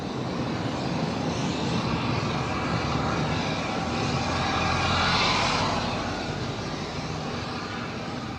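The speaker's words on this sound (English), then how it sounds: "Looks like we got a United taxiing at a high rate of speed." A United airliner taxis at high speed, its engines giving a loud, steady roaring rush that swells slightly midway and then eases, with no talk over it.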